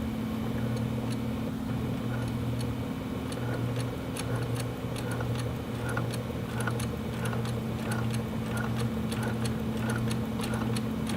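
A cover stitch machine runs steadily through fleece, sewing long loose stitches: a low mechanical hum with a rapid, even ticking of the needle throughout.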